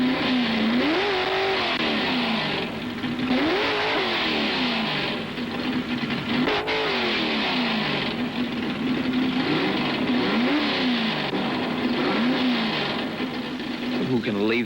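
1960s Ford drag racing cars, including a 427 Cammer, rev loudly, with repeated rising and falling engine surges over a constant roar as they wind up at the line. Someone talks over the engines throughout.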